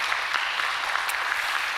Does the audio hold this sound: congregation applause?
yes